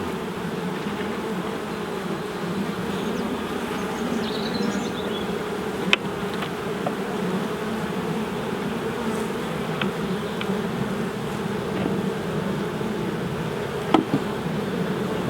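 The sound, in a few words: honey bees buzzing in an opened hive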